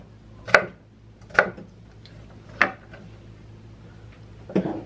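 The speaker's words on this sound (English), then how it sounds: "we're gonna cut them into like little cubes" A knife chopping potatoes into small cubes on a cutting board: four sharp, separate chops spaced about a second apart, close and clear over a quiet background, no talking.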